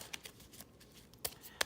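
Playing cards for the Enemy Action: Ardennes board game are shuffled near the mic, giving soft riffling bursts with sharper snaps near the end, faint and without talk.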